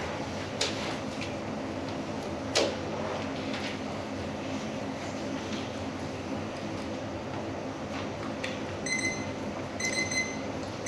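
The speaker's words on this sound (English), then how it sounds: "Can we please get a quieter timer?" A timer at a township trustee meeting goes off, sounding a quick run of high electronic beeps near the end over a steady room hum and murmur.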